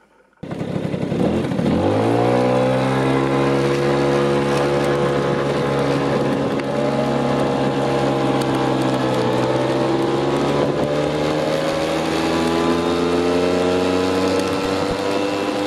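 An old Qingqi Sasy Classic 2000E Chinese scooter engine starts up and settles into a steady buzzing idle, close and loud, with a slight rise in pitch partway through.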